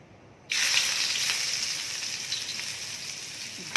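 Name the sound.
garlic and ginger sizzling as they are sautéed in oil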